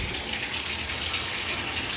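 Shower water runs steadily in a bathroom, a continuous even hiss of spray with no voices over it.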